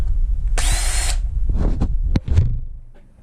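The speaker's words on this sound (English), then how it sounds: "I go and put the piece I cut on a cold drill, like so" A power drill whirs in a short burst of about half a second, followed by a few scattered clicks and knocks of handling.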